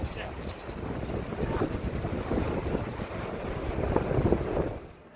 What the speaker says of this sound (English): So here's the Colorado River at the bottom of the Grand Canyon.